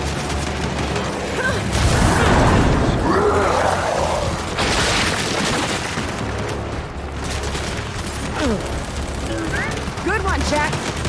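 Turret gunfire in the Gears 5 campaign on PC, playing as Kait Diaz: a dense, continuous hail of shots and impacts across the whole stretch, with characters shouting over it.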